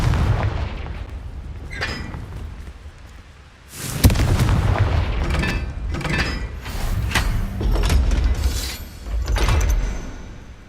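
The Confringo blasting spell in the Hogwarts Legacy game goes off as several heavy booming explosions with cracking impacts, loud and close, following one another over a steady rumbling background.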